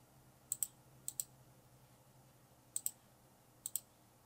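Mouse clicks on a web form button, four quick double clicks spaced apart, crisp and close with a faint hum beneath.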